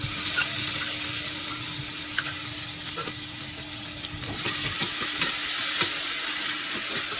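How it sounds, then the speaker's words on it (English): Ginger garlic paste sautés in hot oil with whole spices for chicken degi korma, a dense, continuous close sizzle with occasional scrapes of a stirring spoon. "We will saute this till the raw smell goes away"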